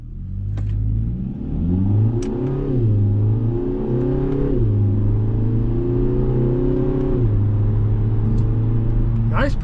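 A 2024 Kia Forte GT in manual mode accelerates, heard from inside the cabin: the engine note climbs steadily, drops briefly at each of several upshifts, then climbs again, loud and sustained throughout.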